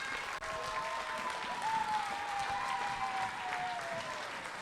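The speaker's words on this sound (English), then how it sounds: "give them a super round of applause before we start, please" Audience in a school hall clapping, a dense sustained round of applause filling the room at an even level, with a tonal feedback-like whine running beneath it.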